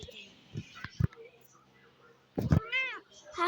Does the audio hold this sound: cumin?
no